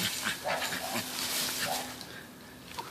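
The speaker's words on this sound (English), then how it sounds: "And we got a puppy." A puppy whimpers and whines in soft, high-pitched bursts over a few seconds outdoors during an orange harvest, fairly close, with light background noise.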